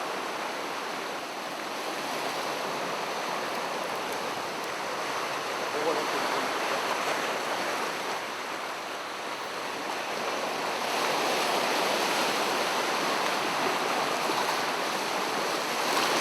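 Rough sea on the East Sea shore, a steady broadband wash of surf and breaking waves that swells and ebbs over time, with wind around it and no talk.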